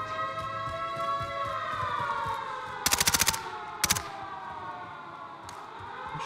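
Automatic gunfire in Call of Duty Vanguard rattles out in two sharp bursts, a longer one and then a short one. A steady droning, siren-like tone runs underneath, and nobody speaks.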